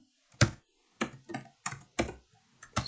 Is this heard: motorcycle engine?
no